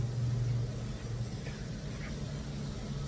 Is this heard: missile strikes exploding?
no